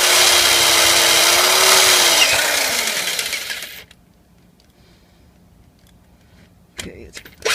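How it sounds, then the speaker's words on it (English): A loud power drill whines steadily for several seconds as it bores a hole in a metal manifold, its pitch sliding down as it works, then cuts off into near silence before a few brief clicks. "Alright, that should be the last hole I need to drill."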